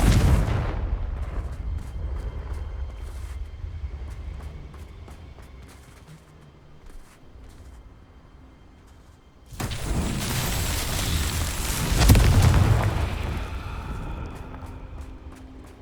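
A Confringo explosive spell goes off in Hogwarts Legacy: one loud burst with a low boom and broad crackling spray, following quieter rumbling game ambience and slowly decaying afterward, with no talk.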